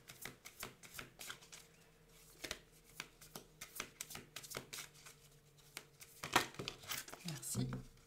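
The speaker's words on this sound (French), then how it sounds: "je vais vous tirer une carte pour le mois de juin" Tarot cards are shuffled and drawn in quick, close papery riffles and slaps, giving a rapid series of sharp flicks with soft rustling between them, while a voice talks quietly underneath.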